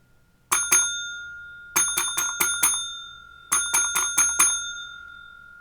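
A railway signal box bell rings out a bell code in three groups, two strikes, then five, then five, each stroke sharp and ringing with a clear sustained tone, close and loud with quiet gaps between groups.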